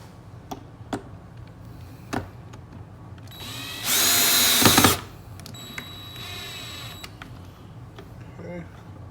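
Power drill with a bigger bit boring a screw hole in a Starboard mount for a Garmin transducer on a Bonafide SS 127 kayak, one loud high whine lasting about a second and a half between scattered clicks and handling taps.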